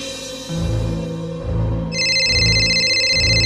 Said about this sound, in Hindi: फोन बजते ही देखा कि मीना ने अपना फोन वही छोड़ा था।